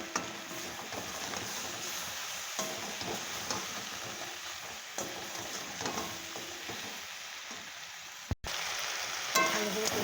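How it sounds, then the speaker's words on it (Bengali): Ground green chili and ginger paste frying in a pan, a continuous close sizzle with stirring scrapes throughout, briefly cut off then resuming, no talk. "ভালো করে কষিয়ে নিচ্ছি"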